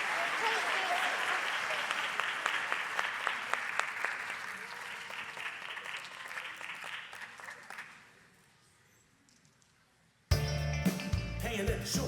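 Applause for children from an audience at a rabbi's anniversary celebration, a dense wash of clapping that fades out toward silence before loud music abruptly cuts in near the end.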